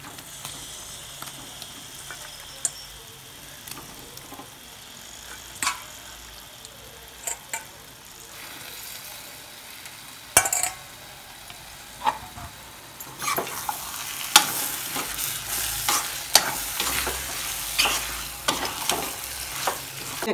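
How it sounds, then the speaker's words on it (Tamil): Washed chicken pieces tipped into hot oil for a Kerala-style curry, sizzling steadily while a spoon stirs and scrapes the pan in repeated clacks, the frying growing louder and brighter toward the end. "இப்போ கறி நல்லா கழுவி வச்சுருக்கேன். அதை எடுத்து அதில் போட்டுக்கலாம்."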